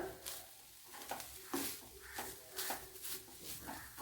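Coconut, okra and curry leaves roasting in a pan, with quiet, intermittent spoon-stirring scrapes over a soft, steady sizzle and no voices.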